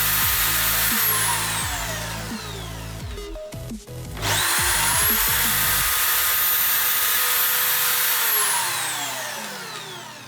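Power drill boring holes into scrap wood, with a sustained loud whine that winds down and restarts partway through, then runs on steadily before fading slightly at the end.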